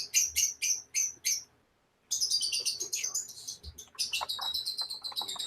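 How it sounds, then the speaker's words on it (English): Small birds chirp in rapid bursts of high tweets, a few evenly spaced calls, then a short pause, then denser overlapping twittering with faint background noise. "they're still just chirping away"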